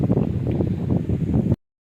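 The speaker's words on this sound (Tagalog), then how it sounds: "Sinsya na mahangin yung location ko." Strong wind buffets a microphone at a high spot by a monopole antenna tower, a loud low rumbling gust lasting about a second and a half before cutting off.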